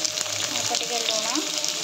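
Pointed gourd (potol) frying in hot oil in a kadai gives a steady close sizzle, with a person talking over it.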